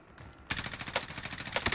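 Automatic gunfire in the battle royale video game Call of Duty Warzone: a loud, rapid burst of shots starting abruptly and continuing steadily to the end.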